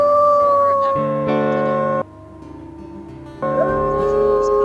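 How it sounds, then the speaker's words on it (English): Several wolves howling together in the WolfQuest: Anniversary Edition game, loud, sustained overlapping tones that shift in pitch, a brief quieter stretch in the middle before the chorus swells again. "Those wolves howling back makes me comfortable."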